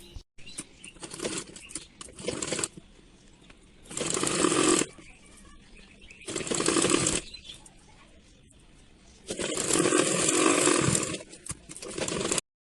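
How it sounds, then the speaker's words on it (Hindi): A sewing machine stitches blouse puff sleeves in bursts, each run a loud rapid whirring clatter lasting one to three seconds, separated by quiet pauses, close up with no talk. "अब हम ये सिलाई कर लिए हैं दोनों साइड से।"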